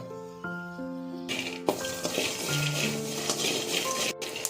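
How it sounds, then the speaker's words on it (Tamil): Peanuts frying in a pan on a low flame, giving a soft steady sizzle with light rattling and stirring scrapes. Background music plays throughout. "வேர்க்கடலையை அதில் சேர்த்து நல்லா ஃப்ரை பண்ண ஆரம்பிச்சிடலாங்க. லோ ஃப்ளேம்லேயே வச்சு கொஞ்சம் நேரம் ஃப்ரை பண்ணுங்கள்."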